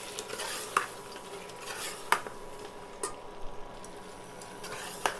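A spoon stirs an onion-cashew-spice paste sautéing in a pan for mutton gravy, with soft sizzling and several sharp scrapes and clinks against the pot at irregular intervals, no voices.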